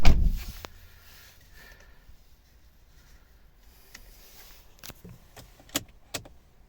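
A door of a 2012 Volvo V50 1.6 D2 estate swung shut with a solid thud at the start, followed by quiet cabin stillness and a few light clicks and rustles from inside the car.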